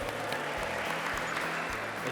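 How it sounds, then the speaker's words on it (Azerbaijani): A short burst of steady audience clapping at a competition show, even and continuous throughout. "Onları da alqışlayaq."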